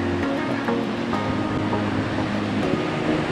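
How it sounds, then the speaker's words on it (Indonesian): Strong wind blows across Depok beach in Yogyakarta, making a loud, constant roar and buffeting of the microphone that blends with surf noise and does not let up. "Ini anginnya kenceng ya, bro"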